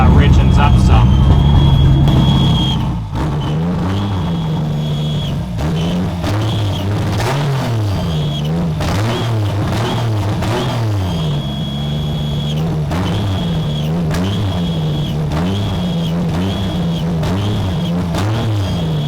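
A Toyota 2JZ engine swapped into a BMW E36 revs repeatedly in rising and falling sweeps, close and loud, after an initial steady idle, with someone talking in between.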